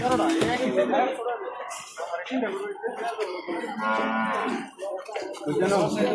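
Large white crossbred cattle at a busy livestock market bellow in long, loud moos close by, while people haggle and talk over them.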